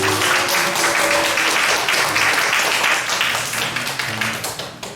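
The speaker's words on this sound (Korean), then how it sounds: "우리 혜린이를 위해서 다시 한번 박수 한번 드립니다" An audience at a Korean church high-school youth service claps together in dense, sustained applause that thins into scattered claps near the end.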